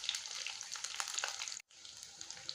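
Jackfruit pakoras fry in hot oil, their second side browning with a steady, close crackling sizzle and fine popping; the sizzle cuts out for a split second before resuming, with no talking.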